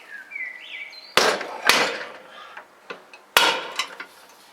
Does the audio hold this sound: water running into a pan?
no